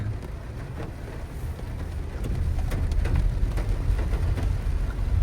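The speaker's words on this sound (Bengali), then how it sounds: "ভালো বৃষ্টি হইতেছে না" Rain falls steadily outdoors, a continuous wash of patter with scattered sharper drop hits, growing somewhat louder midway and holding there, with no talking.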